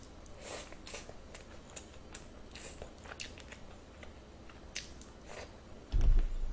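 Rice and Spam are chewed close to the microphone, with repeated soft, moist bites and mouth sounds at a steady pace, ending in a brief loud thump.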